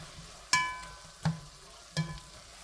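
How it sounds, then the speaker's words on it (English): A spoon stirring Italian seasoning, salt, pepper and garlic in a pan: three distinct metallic scrapes and taps, the first ringing briefly, over a soft, faint sizzle. "Let me stir all this together."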